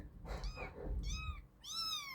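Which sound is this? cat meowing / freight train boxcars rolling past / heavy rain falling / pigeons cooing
cat meowing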